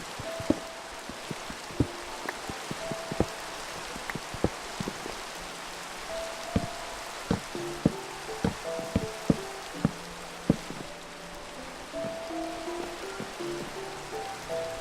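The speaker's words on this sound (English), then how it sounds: "Yeah, it's raining again" Steady hiss of rain in Minecraft's Sky Factory 3, a continuous wash of patter throughout, with scattered clicks and short tonal game sounds layered on top and no talking.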